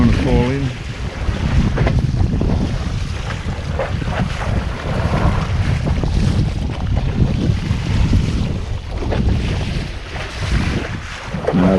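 Gusty wind buffets the microphone out on open water, rumbling low and uneven in waves of loudness, with faint lapping water beneath it.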